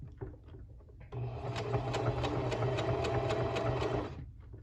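A home sewing machine runs steadily under foot-pedal control for about three seconds, a close, even mechanical whir with a regular needle tick after a soft start, then stops.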